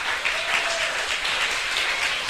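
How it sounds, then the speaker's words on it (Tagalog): Loud, steady applause from a church congregation, dense clapping filling the whole stretch without pause. "Malakas na palakpak sa Panginoong Diyos."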